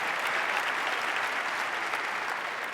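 Dense applause from a keynote audience at MGM Grand in Las Vegas, a full, even roar of many hands clapping at once, sustained for nearly three seconds.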